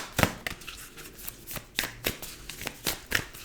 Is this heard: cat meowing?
no